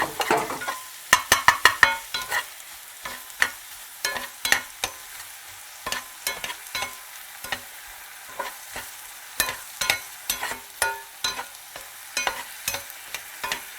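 Sweetener being stirred into a keto apple fritter mixture, with a run of quick clicking and scraping strokes of the utensil against the bowl, bursts of rapid taps separated by brief pauses.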